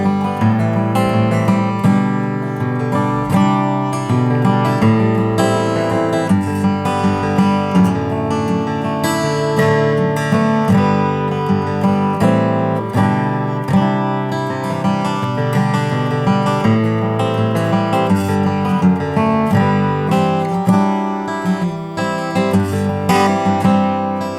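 A Martin OM-45 acoustic guitar of East Indian rosewood with a gloss neck is played alone, a full, ringing stream of strummed and picked chords with rich, sustained overtones and no talking.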